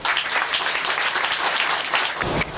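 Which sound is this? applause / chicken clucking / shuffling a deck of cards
applause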